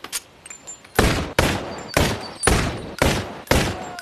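Seven sharp gunshots ring out in the Bonelab video game, fired in a steady rhythm roughly half a second apart, each loud, close and dry with a quick decay.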